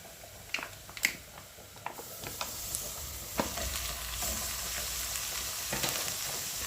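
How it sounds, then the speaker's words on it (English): Minced meat sizzles in a hot pan for a cottage pie, a quiet continuous frying hiss broken by a few sharp clicks and scrapes of stirring, with no talking. "we're going to add in our minced meat"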